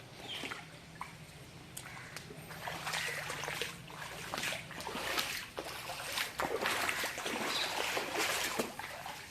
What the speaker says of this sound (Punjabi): ਪਾਣੀ ਹਲੇ ਵੀ ਇਧਰੋਂ ਆ ਰਿਹਾ ਹਲੇ ਵੀ